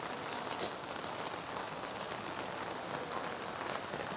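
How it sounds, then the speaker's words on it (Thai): Heavy rain pours down steadily at a house under construction, a dense hiss of drops drumming on surfaces close by with no letup. "ฝนพิลึกพิโลแท้"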